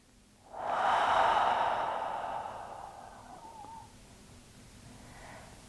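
Long, deep, slow exhale during a home vinyasa yoga session, a breathy rushing sound that swells quickly and fades over several seconds, close and alone, followed by quiet.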